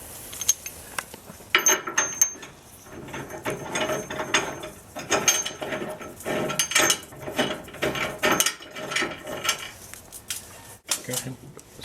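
A socket wrench ratchets on a motorcycle rear frame bolt during installation of an RPG Stage 3 rear frame kit, giving repeated bursts of close, sharp clicking with metallic clinks and pauses between the turns.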